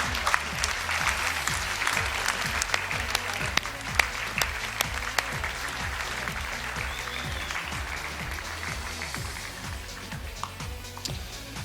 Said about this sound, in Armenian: Ծափահարություններով